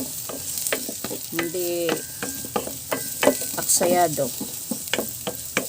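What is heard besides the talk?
sautéing food in a thin pot or pan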